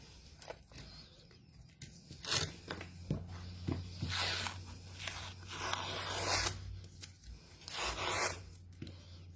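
Adhesive tape peeled off its roll at a sewing table while quilting lining, giving several close, crackly tearing rips in short bursts with brief pauses between.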